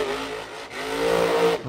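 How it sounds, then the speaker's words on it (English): A monster truck engine revs hard as the truck rips around the track during a freestyle run at a 2024 show in Wheatland, Missouri, one loud sustained roar that dips briefly and then climbs again before cutting off. "Ripping that truck around."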